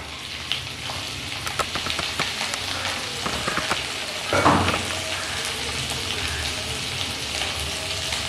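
Prawns fry in a pan with softened onions, giving a steady close sizzle with crackles and pops and a brief louder burst midway, with no talking.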